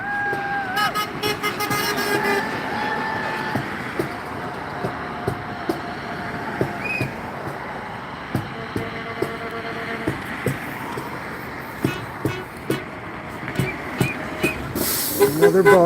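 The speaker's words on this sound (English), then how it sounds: "this guy's honking" A city bus horn toots on a busy two-lane St. Paul street, a few short blasts amid passing traffic and crowd noise, with people talking nearby and sharp knocks scattered throughout.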